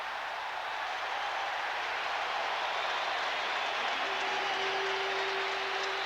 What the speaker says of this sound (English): the crowd trying to help out the defense